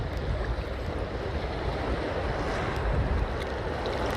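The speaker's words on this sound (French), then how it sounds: "Regardez la mer." Sea waves wash steadily onto Kai Beach on Saadiyat, Abu Dhabi, a continuous broad surf roar with light wind buffeting the microphone and no voices.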